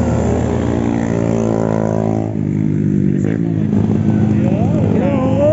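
A CF Moto big bike engine hums steadily with rising and falling pitch, loud and close, with a voice speaking over it.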